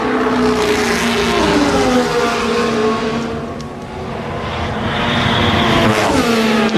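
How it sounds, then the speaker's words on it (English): Williams Formula 1 car driven by Carlos Sainz during 2025 Belgian Grand Prix free practice, suffering a technical fault; a loud, close engine whine rises and falls through gear changes over several seconds. "Carlos Sainz, just hearing him"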